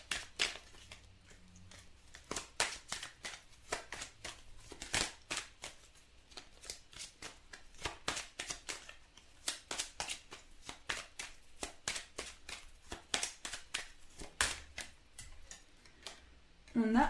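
Tarot cards are shuffled and drawn, producing a long run of soft rapid flicks and riffles at close range, with brief quiet gaps and no talking.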